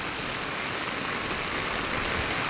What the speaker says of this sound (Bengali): আর সবাই বৃষ্টি উপভোগ করেন আমিও করতেছি ছাতা নিয়ে ভালোই লাগছে